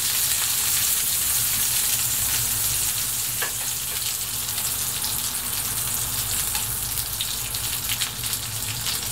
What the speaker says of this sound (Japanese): ニラの方が先に熱が入るので先に揚げておきます